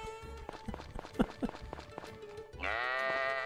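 An alien alpaca from the farming video game Story of Seasons calls out in short, bleating cries, several clustered near the start, then a long sustained tone rises at the end over a steady background game soundtrack.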